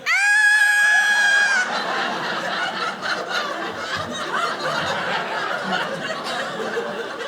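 A voice lets out a loud, high-pitched screech for over a second, imitating a shrill cry, followed by a group breaking into chuckling laughter.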